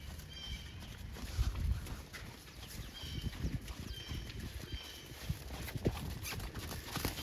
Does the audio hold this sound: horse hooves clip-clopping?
yes